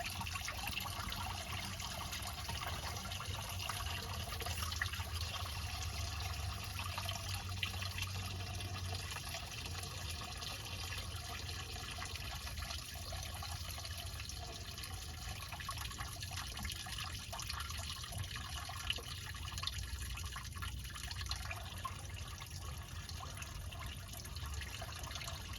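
Coolant draining from a 2006 Chevy Silverado 1500 WT with a 4.3 engine into a drain bucket, a faint, continuous trickle and splash of liquid that runs steadily without speech.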